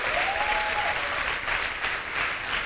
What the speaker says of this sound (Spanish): Le damos un fuerte aplauso al Señor.